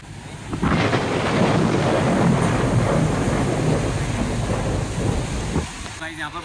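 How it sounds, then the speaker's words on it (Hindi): Heavy rain pours down steadily in a dense, continuous roar that cuts off near the end, leaving brief faint sounds. "गाइस यहाँ पर बहुत ज्यादा बारिश हो रही है"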